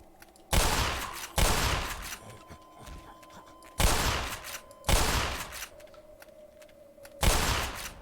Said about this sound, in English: So we'll just use the shotgun.